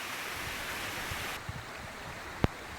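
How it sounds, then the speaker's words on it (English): Waterfall on Gragg Prong in Pisgah National Forest, North Carolina, a steady broadband rush of falling water that drops lower partway through, with a couple of brief knocks. "it is a pretty cool waterfall"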